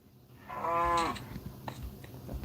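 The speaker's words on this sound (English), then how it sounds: "Alright, cow." A cow in the Minecraft video game lets out a single clear moo lasting about half a second. The call sounds close and quiet. Faint game ambience and soft footsteps follow, with no talk.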